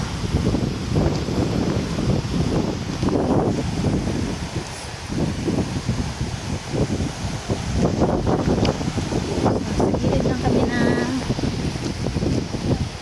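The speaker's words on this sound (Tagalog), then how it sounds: "Mahangin dito." Strong wind on a mountain trail to Binurong Point, Catanduanes, roars steadily, buffeting the microphone with a constant rough rumble that swells and dips but never stops.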